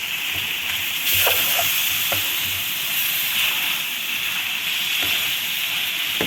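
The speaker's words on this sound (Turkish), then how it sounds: "Bir tatlı kaşığı da domates salçası. Ve bunu güzelce bir tekrardan kavuracağım." Pepper paste and tomato paste sautéing in a hot pan while a chicken dish is cooked, giving a steady close sizzle and hiss with a few light scrapes of stirring, and no voices.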